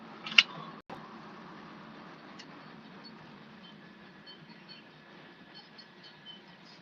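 A train rolls through the Smith Mills crossing on a main line as a steady, low rumble at moderate distance, with a sharp click near the start and faint squeals and clanks over the continuous roar.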